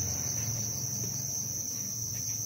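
Dense, steady chorus of crickets chirping inside shipping boxes at a cricket farm, a continuous high trill with a low hum underneath and no talking.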